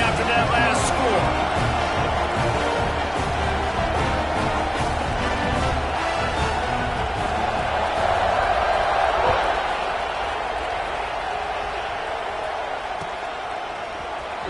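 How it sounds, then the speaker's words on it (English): A stadium crowd buzzes in a steady, dense roar at a football game following a score, loud and continuous throughout, with an announcer talking over it. "this crowd is buzzing after that last score"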